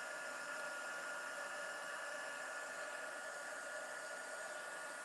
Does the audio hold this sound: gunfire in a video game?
no